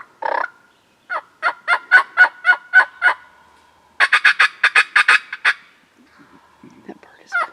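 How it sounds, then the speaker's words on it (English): Wild turkey gobbler gobbling loudly outdoors in spring woods, two rapid rolling bursts of gobbles, one single note then a string of about eight pulses, a pause, then a second tight run of similar pulses, with faint rustling afterward. "The gobbler's coming."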